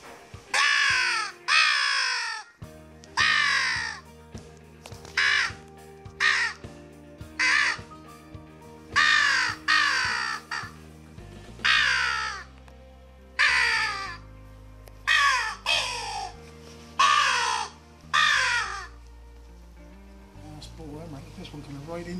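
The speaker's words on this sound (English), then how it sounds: "Send me this new crow call." Repeated loud crow caws from a Rotex RM8 electronic caller, in bursts of two or three calls with short gaps between them, outdoors near a barn, with steady low-pitched background tones underneath.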